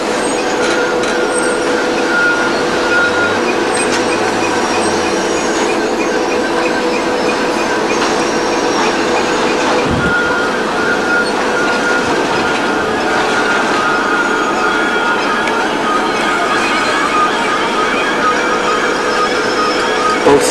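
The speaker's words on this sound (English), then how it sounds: "The train draws through at 2 miles an hour." A Class 37 locomotive hauls coal hopper wagons through Oakdale Colliery at about two miles an hour, a loud, continuous rumbling drone with faint metallic squeals and wheel noise throughout, with no talking.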